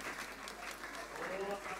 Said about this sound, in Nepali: हामी ताली बजाएर हाम्रो नाच धन्यवाद दिने छौं